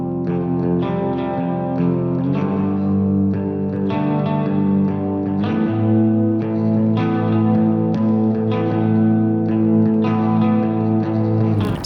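Sustained shoegaze guitar chords pass through Guitar Rig 7's Michael's Delight preset with reverb and low-end EQ, producing a washed, distorted chorus-like tone that changes chords every couple of seconds.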